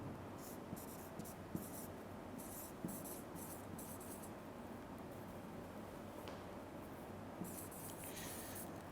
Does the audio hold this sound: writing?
yes